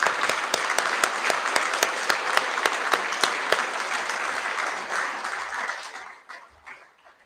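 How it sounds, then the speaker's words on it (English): An assembly audience claps for award winners at a school prize giving, a sustained round of dense applause with sharp individual claps standing out, fading away toward the end. "Let's give these top subject awardees a clap."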